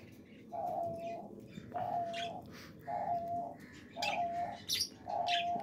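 Five evenly spaced soft cooing calls with faint chirps between them, heard from a budgerigar breeding setup where young chicks have just left the nest box and sit beside adults.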